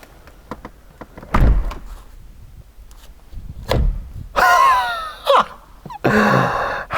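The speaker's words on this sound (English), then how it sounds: "So I'm going to close this door, and if it then automatically opens because the door's down," A McLaren 720S door is closed, with a few light taps and two heavy low thumps, followed by squealing, whirring mechanical sounds and a final loud rushing burst as the door moves.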